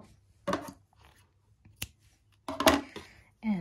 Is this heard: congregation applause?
no